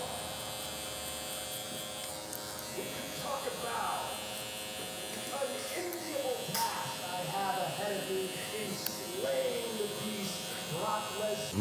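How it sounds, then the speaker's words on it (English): A Gamma Cyborg hair clipper hums and buzzes steadily close up while blending a haircut, with slight changes in tone as it moves through hair and occasional faint voices. "So now I'm going in with my clipper open, setting in my next section"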